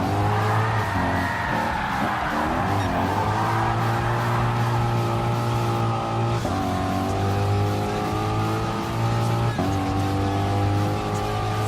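A race car drifting in Gran Turismo Sport, its engine droning steadily while tires squeal in long sustained wails that rise and dip through each slide, loud and continuous throughout.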